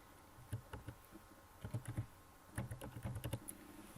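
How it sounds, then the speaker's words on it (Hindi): Fingers type an IP address on a computer keyboard, producing close, brisk runs of key clicks in uneven bursts with short gaps between them. "वो आपने IP एड्रेस यहाँ पे आपने सर्च बार में लिखना है। तो मैं अपनी ईवो विंगल के लिख देता हूँ।"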